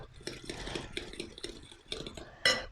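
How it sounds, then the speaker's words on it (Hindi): A spoon stirs tartar sauce ingredients in a bowl with steady, rhythmic scraping and light clinks, close and moderately loud, ending in a sharper knock. No one speaks. "अब मैं इसको अच्छा सा मिक्स कर लूँगा"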